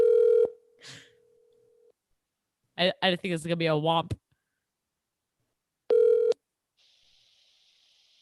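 A telephone call placed to a voicemail line: a sustained ringback-style tone and a short dial beep, a brief burst of speech in between, then another tone followed by a faint hiss.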